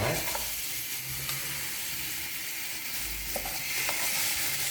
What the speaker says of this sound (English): So I'm just going to get the loin chop into the pot. And like I said, we're going to fry them for 4 minutes on each side.